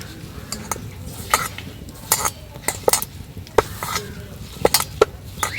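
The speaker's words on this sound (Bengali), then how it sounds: "এবার সমস্ত কিছু খুব ভালোভাবে মিশিয়ে নেব।" A spoon stirs sugar syrup into a pitha filling in a bowl, giving irregular sharp clinks and scrapes against the dish in bursts, fairly close and clear, with no talking.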